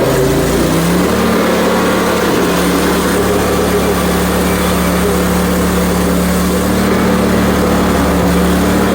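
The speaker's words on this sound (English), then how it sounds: "We'll cut it right here with the chainsaw, and that'll make two pieces" A chainsaw drones for the whole stretch cutting cherry wood, a continuous engine whine holding one pitch with a low rumble underneath, close and loud.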